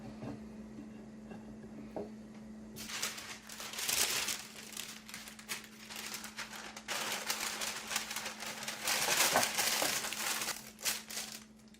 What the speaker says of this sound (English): I'm starting by layering a pan here with butter. That way I can put some parchment paper down and it will stick to it.